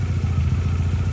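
MG ZR car engine idling roughly with an electrical fault suspected around the coil pack wiring, a close, loud, uneven low throb with a slight clattery pulse over one short stretch, no talk.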